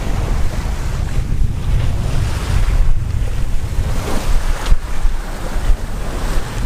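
A sailboat single-handed at sea, with loud, steady wind buffeting the microphone and waves rushing and splashing against the hull, no voices.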